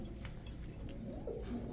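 Pigeons from the Netherlands coo faintly in the background, a low soft call near the end over a dull, muffled room rumble.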